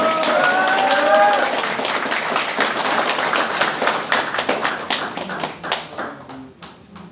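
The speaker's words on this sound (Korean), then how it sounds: "여러분 다시 한번 큰 박수 부탁드리겠습니다." Audience applause at a political party meeting, loud sustained clapping that thins out toward the end into individual distinct claps, close and full.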